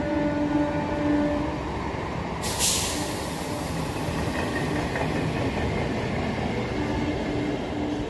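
A train rolls past a level crossing near Sealdah with a steady, heavy rumble throughout, broken by a brief hissing burst partway through.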